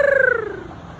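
A single bird call outdoors, a clear descending cooing note that starts strong and fades out over about a second, heard alone at close range.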